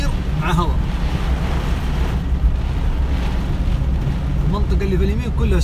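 Heavy rain pours down in strong, gusting wind, a dense roaring wash with buffeting against the microphone that stays loud and steady throughout.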